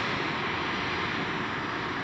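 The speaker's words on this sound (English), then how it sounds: "We're going to take American Airlines flight 613 from LAX. That should be arriving right now." An American Airlines airliner, flight 613 from LAX, arrives at Chicago O'Hare with a steady, broad jet-engine roar that stays constant and fairly distant, with no voices.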